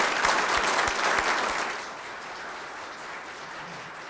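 Soft audience applause at a gathering in Baldwin County, Alabama. A fairly distant wash of clapping is heard alone, thinning and fading after the first couple of seconds.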